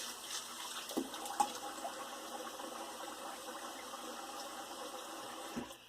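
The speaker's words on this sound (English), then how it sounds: "Let me rinse my face." Running water while rinsing the face after shaving, a soft continuous tap flow with faint splashes and a few small knocks, quiet and without talking.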